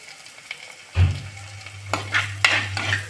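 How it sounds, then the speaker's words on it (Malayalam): Turmeric powder fries with onions in a pan, a close, steady sizzle starting abruptly, with several scraping stirs of a utensil against the pan over about three seconds and no talking. "മഞ്ഞൾപ്പൊടി ഇട്ട് അതിൻ്റെ പച്ചമണം മാറുന്നത് വരെ നല്ലപോലെ ഒന്ന് ഇളക്കി കൊടുക്കണം."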